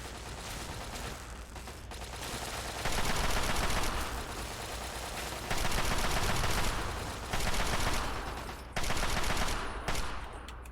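Rapid bursts of laser pistol fire from Fallout 3 crackle in dense volleys against robots, loud and continuous across the scene, with several sharp surges of shooting and no talk.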